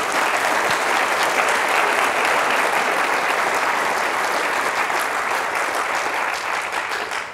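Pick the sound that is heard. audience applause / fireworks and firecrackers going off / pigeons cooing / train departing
audience applause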